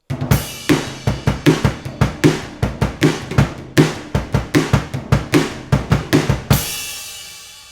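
A drum kit plays the verse beat from a song, repeated crisp kick, snare and cymbal hits in a steady rhythmic pattern, loud and close, ending on a ringing crash left to decay.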